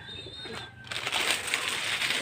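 Pigeons kept alongside rabbits in a village setting give a brief, soft coo. Louder rustling, crunching noise follows it for the rest of the short moment.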